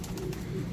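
A pigeon coos in low, steady, throaty tones close by, a continuous soft burble with no talking.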